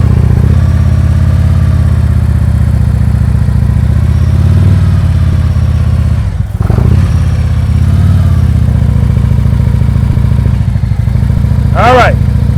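A motorcycle engine runs steadily and close in first gear during slow-speed riding with the rear brake covered, its low loud drone continuous for the whole stretch, dipping briefly partway through before a short whine near the end.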